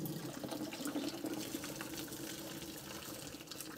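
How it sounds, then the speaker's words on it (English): Boiled potatoes drained through the strainer lid of a pan, water pouring out in a steady, continuous gush and splash that stays fairly quiet and even throughout. "Now we're going to drain the mashed potatoes."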